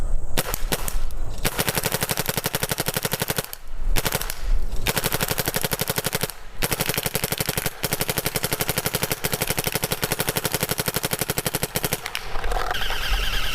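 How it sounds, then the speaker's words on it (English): A Planet Eclipse Ego 10 paintball marker fires long rapid streams of shots, a fast steady popping rhythm with a slightly tinny edge, broken by a few short pauses between bursts. "It does have a little bit of a tingy noise to it, but it's a good light gun."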